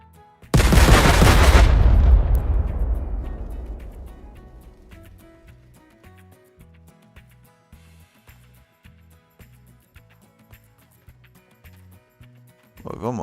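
A huge explosion from detonated charges in a gold mining game bursts in loud and near, then rumbles and decays over several seconds into quieter clicking and low background noise.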